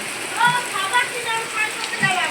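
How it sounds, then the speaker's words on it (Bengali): Rain falls steadily near a home, a continuous close hiss with soft voices in the background. "বৃষ্টি হচ্ছে।"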